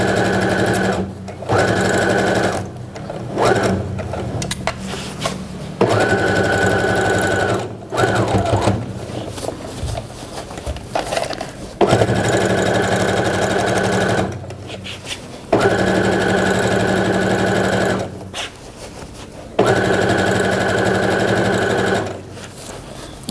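A sewing machine stitches the whole way around a quilted necaissaire, running loud and fast in long bursts separated by short pauses.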